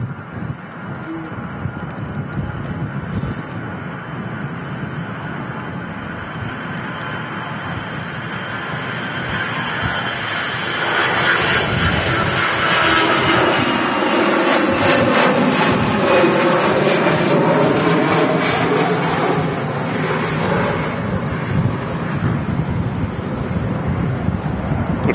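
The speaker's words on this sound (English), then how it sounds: "EasyJet on the takeoff roll to Amsterdam." An EasyJet airliner on its takeoff roll at Manchester Airport, bound for Amsterdam: a broad engine roar swells in the middle, then settles into a steady distant rumble mixed with wind buffeting the microphone.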